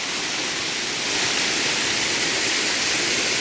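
A waterfall on a rural property thunders in a dense, unbroken rush of falling water, loud and close, swelling slightly midway, with no voices.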